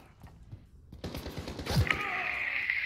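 Gunfire in Modern Warfare multiplayer: a few muffled shots and impacts, then a louder burst with a sustained ringing tone, in a busy game mix.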